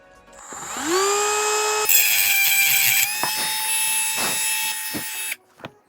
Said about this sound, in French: je prends une petite Dremel avec une petite meule. On va aller meuler cette partie là.